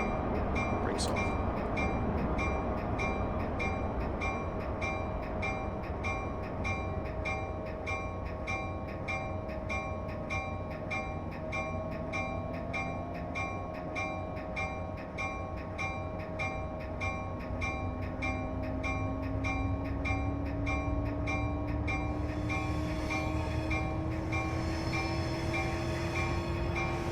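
An Acela Express high-speed train runs in the Train Sim Classic game, with a steady loud rolling drone, rising motor whine, and a repeating ticking cab signal throughout, no voices present.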